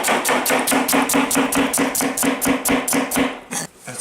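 Rapid, loud knife chops through celery, about sixteen sharp evenly spaced strikes in quick rhythm before a brief pause and a final couple of cuts, with no voices.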